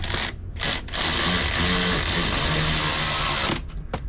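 Power drill with a 13 mm socket running a bolt on a swivel seat base in a 2021 Ford Transit van, a steady close whirring burst of about three seconds with brief stops and restarts at each end.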